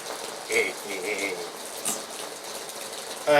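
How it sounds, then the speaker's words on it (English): Hard rain falls steadily, making a continuous broadband hiss with a few faint tonal chirps over it and a slight swell near the end. "it's just raining harder and faster."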